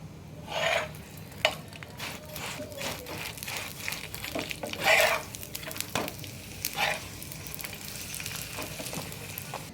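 Roti for an egg chicken roll cooking in oil on a pan, a low steady sizzle broken by several scraping rubs and pressing strokes as the flatbread is worked, close and moderate in level.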